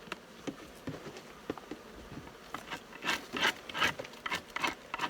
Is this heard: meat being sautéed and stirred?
no